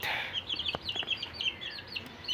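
Backyard chickens cluck softly in a small home poultry yard, with short, faint, repeated calls and chirps over a quiet outdoor background.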